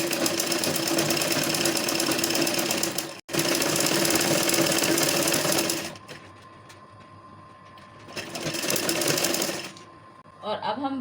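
A sewing machine stitching a fabric strip over dori cord to make piping runs in loud, fast continuous bursts with short pauses between runs, near and alone.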